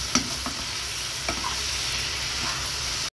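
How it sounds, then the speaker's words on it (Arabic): Chopped green and red bell peppers stirred in a hot frying pan for a sausage pasta bake give a steady, close sizzle, broken by a few scraping stirs of the spoon, with no talking. "هنزلهم عليهم كده متقطعين واقلب برضو كويس"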